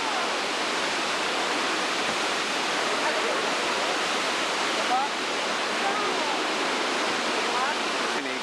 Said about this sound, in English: Hey, you're trying to get waterfall.